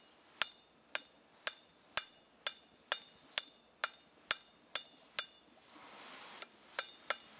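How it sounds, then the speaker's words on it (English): Sharp metallic hammer blows flattening hot rebar ring out in a steady rhythm, about a dozen strikes with a brief pause before a final quicker few. "I used the face of the hammer to flatten approximately 3 to 4 inches back."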